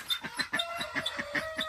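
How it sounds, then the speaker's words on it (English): Several roosters cluck and chatter in quick, repeated bursts at close range on a muddy farm, with no talking. "I gotta go let some of these roosters out."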